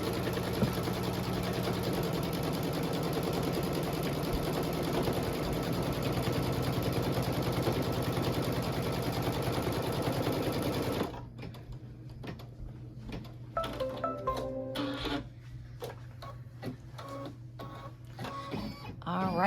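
An embroidery machine stitches a placement line in a steady, loud mechanical whir with a fast rhythmic needle clatter, then it stops and scattered clicks and handling noises follow.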